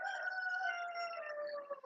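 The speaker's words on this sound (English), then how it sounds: "you hear my roosters?" A rooster crows once in a long, drawn-out call on a farm with many chickens, clear and fairly close with no talk over it.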